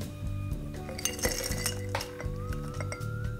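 Ice cubes clink and rattle into a small cocktail glass for a whiskey drink, a run of bright close glassy chinks with a few louder knocks.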